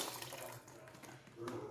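Chicken broth poured into a cooking pot for Cajun chicken and sausage gumbo, a brief steady liquid splash and pour at close range, with a voice faintly present.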